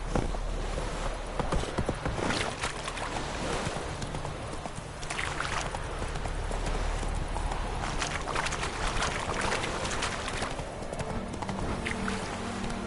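Horse hooves in The Witcher 3 clip-clop in a steady galloping rhythm, close and continuous, with a faint bed of ambient game sound beneath and no talking.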